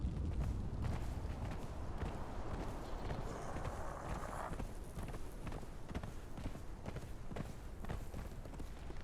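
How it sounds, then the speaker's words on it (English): Horse hooves clip-clopping at a steady ride in Conan Exiles, a continuous run of close, moderately loud hoofbeats over a busy game soundscape. "Let's actually ride our horse again."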